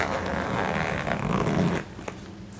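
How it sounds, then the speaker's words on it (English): The zipper on an emergency car kit bag that has sat unopened for two years is dragged open in a rough, scratchy run. It stops suddenly after nearly two seconds, and a fainter rustle follows. "let's see if we can get this zipper open"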